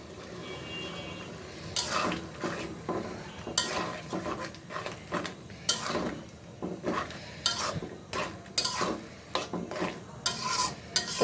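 Vegetables being stirred with mustard paste in a pan, repeated scraping strokes of a utensil against metal in uneven bursts over a low sizzle, close by with no talking.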